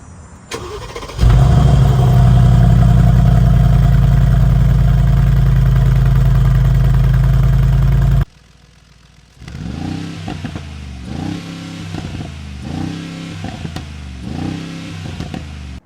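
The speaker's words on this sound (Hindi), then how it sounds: "मैसिव इंजन आता है इसमें, 4 लीटर का मर्सिडीज़ का by turbo twin turbo V8 engine." A 2023 Mercedes-AMG G 63 with a 4-litre twin-turbo V8 fires up into a loud, deep idle rumble, falls briefly quiet, then revs in a series of short, rhythmic blips close to the microphone.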